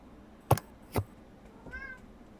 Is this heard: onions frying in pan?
no